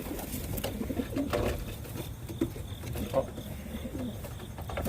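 Racing pigeons back at their home loft after a 150-mile race, with soft intermittent cooing and low murmuring calls over a faint outdoor background and no clear talking.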